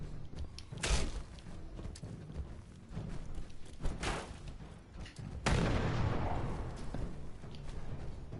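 Grenade blasts in a video game: several heavy booming thuds, one near second 1, another near 4, and a louder, sustained roar from about 5.5 seconds onward over a steady game background.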